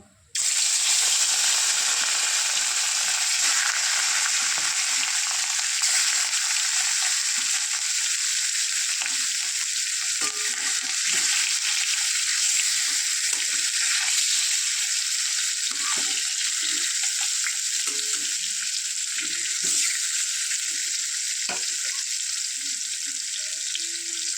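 Fish frying in hot oil after lentil dumplings were fried, a steady, loud, continuous sizzle with faint crackles and pops throughout, no talking.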